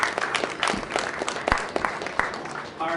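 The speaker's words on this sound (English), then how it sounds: "A round of applause for Sam, please." An audience at a Red Sox Winter Weekend news conference applauds, a moderate round of clapping from a room crowd with a few sharper individual claps, steady and fading slightly toward the end.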